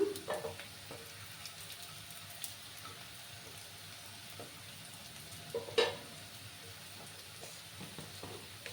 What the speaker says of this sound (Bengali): এবার আমি দেখো একটা তেজপাতা দুটো ফাটানো এলাচ আর দুটো দারচিনি দিয়ে দিলাম